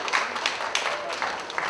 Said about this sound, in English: please give everyone here at the Field Days a big round of applause